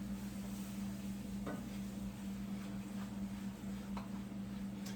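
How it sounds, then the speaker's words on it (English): Thick milk candy mixture of milk and sugar being stirred in a pot, a steady low bubbling and scraping texture with faint sizzle, continuous and close, no voices. "Now I'm just stirring it, and it's going to be like maybe another 10 minutes"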